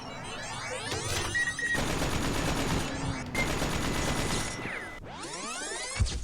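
A turret in The Talos Principle firing without letup: loud, dense streams of synthetic gunfire-like bursts in several long runs, broken by brief gaps and ending in a sweeping electronic whoosh.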